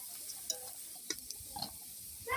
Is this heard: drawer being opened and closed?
no